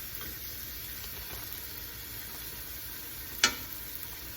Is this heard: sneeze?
no